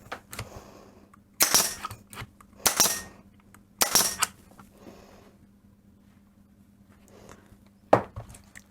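Ace & K TPN2345S 23 gauge air headless pinner on an airline firing 25mm pins into wood, four sharp pneumatic snaps spaced a second or more apart, close and loud with no talk.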